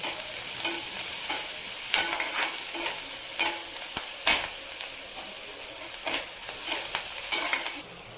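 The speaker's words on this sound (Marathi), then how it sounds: "थोडंसं मीठ टाकल्यामुळे अगोदर काय होतं, कांदा पटकन परतला जातो" Onions sautéing with a pinch of salt in a pan for sprouted moong poha, a steady close sizzle broken by scraping spatula strokes at irregular intervals, with no talking.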